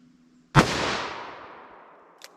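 A single loud, close gunshot from a Winchester .44 Magnum revolver with a 4.25-inch barrel, a sharp crack with a long, decaying echo and a faint click at the end.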